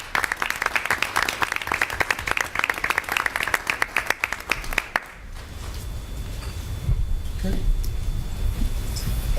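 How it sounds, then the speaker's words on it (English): People at a school board meeting applaud award winners, a crisp run of clapping for about five seconds that stops abruptly, leaving quieter room noise and some talking. "Let's give all of our award winners a round of applause."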